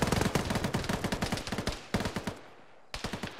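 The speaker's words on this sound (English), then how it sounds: "And gunfire behind us." Rapid bursts of automatic gunfire in a military video game crackle in fast, dense volleys, with brief pauses between them, loud and close.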